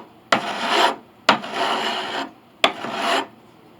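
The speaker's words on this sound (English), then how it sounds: "Moving on to the filing." A rasp file is pushed across wood during restoration of an 1881 Steinway Model A piano, three separate, even strokes, each starting with a sharp bite, holding a coarse rasp and then trailing off, close and loud.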